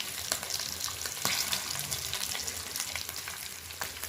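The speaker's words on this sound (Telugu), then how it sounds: "ఇట్లా ప్యాన్లో నూనె వేసి ఇలా మంచిగా మనం ఫ్రై చేసుకోవాలి" Soaked chapala fish frying in oil in a pan, a steady dense sizzle with crackling bursts and a few sharper pops, close and fairly loud throughout with no voices.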